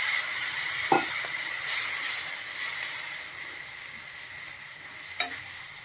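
A soft, steady hiss of a little water sizzling on hot spices in a pan, with a couple of brief clinks of a utensil; quiet and close, no talking.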